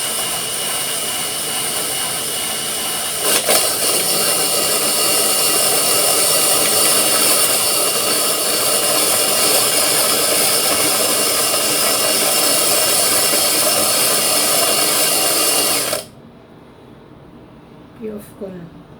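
A smoothie ice shaver grinds ice with a loud, continuous electric motor whine for about sixteen seconds before switching off, leaving quiet room sound and a few faint clicks.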